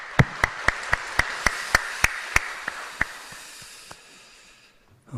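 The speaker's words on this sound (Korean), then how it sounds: "우리 하나님께 모든 영광의 박수를 같이 한번 드릴 수 있기를 바랍니다" A church congregation at Sunday service claps for the Zion choir, heard as a slow, even series of about a dozen loud, crisp claps in unison that thin out and fade into scattered, quieter claps.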